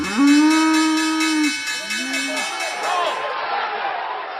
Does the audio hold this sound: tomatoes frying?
no